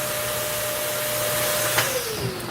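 A Kirby vacuum cleaner runs steadily and loudly, its motor holding a constant hum and whine with a brief clunk near the end as the pitch shifts slightly.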